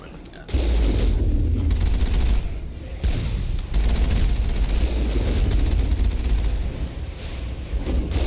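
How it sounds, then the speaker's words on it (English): Explosions and gunfire in the Mass Effect video game, with a loud sustained barrage of shots and booms that runs almost continuously after a brief quiet opening. "And also hear an explosion."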